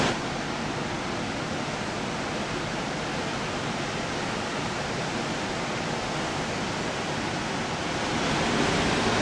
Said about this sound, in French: pour voir cette jolie cascade.